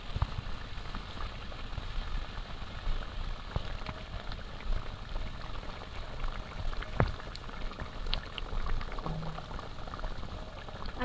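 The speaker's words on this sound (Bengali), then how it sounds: "খুব ভালো করে কিন্তু একদম গ্রেভি ফুটছে" Pomfret fish curry gravy simmers in a pan, a quiet, steady bubbling and popping with a few sharper spits, no talk over it.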